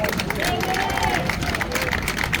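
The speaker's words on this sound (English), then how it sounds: "A round of applause for the big man" A crowd applauding at a hot dog eating competition weigh-in in New York City, a dense steady clapping and cheering roar with voices shouting over it.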